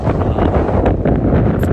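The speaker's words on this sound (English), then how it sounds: "super windy and very cold in here right now" Strong, very cold wind on a mountain in Great Smoky Mountains National Park roars and buffets the microphone in a loud, continuous rumble.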